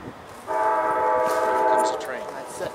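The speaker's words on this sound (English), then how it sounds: "Here comes the train." Amtrak Empire Builder passenger train sounding a loud, sustained multi-tone horn for over a second as it approaches, with rumbling rail noise continuing afterward.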